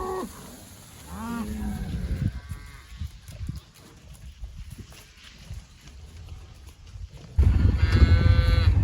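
Cattle and calves bawling at a farm during fall harvest, several drawn-out moos from cows and calves, some near and loud, with a burst of clattering movement and a final long moo closing it out.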